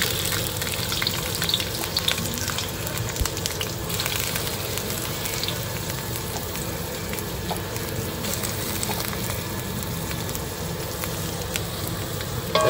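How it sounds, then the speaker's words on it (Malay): Large onions frying in hot cooking oil, a steady, dense sizzle and crackle that carries on without pause, close and moderately loud. "Minyak panas, kita masukkan bawang."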